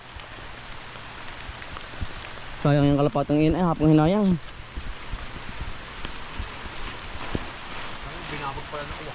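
Steady rain falls over a field planted with taro in cold weather, a constant hiss running throughout while a man sings a short phrase and faint voices come and go.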